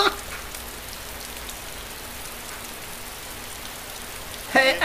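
Steady rain in the survival video game DayZ, a constant hissing patter with no other sounds, broken only by a short burst of speech at the very end.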